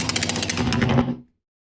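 Electrical zap sound effects: a loud buzzing, rapidly pulsing crackle of rattling bursts that runs for about a second, then cuts off abruptly into silence.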